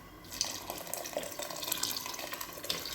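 Water runs and splashes steadily into a cooking pot for a few seconds while making dried-fish curry (karuvattu kuzhambu), with a bright, trickling texture and no voices.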